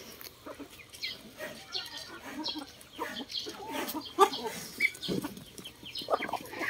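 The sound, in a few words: Rhode Island Red chickens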